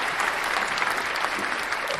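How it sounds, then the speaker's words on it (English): Steady applause from a small audience during a live guitar quiz, a dense, even patter of clapping at close range that holds at the same level for the whole stretch without any talking. "She can have a round of applause as well."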